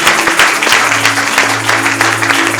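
Church congregation clapping together during a Sunday service, a dense, steady burst of applause with a low sustained tone underneath, close and fairly loud with no speech.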